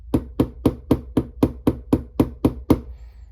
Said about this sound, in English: Let's see if it will damage it just whacking it off the table.